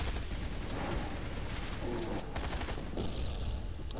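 Rapid bursts of gunfire from the shooter video game Hazrd Ops fill the whole stretch, loud and dense with overlapping shots and no pauses, backed by a steady rumble.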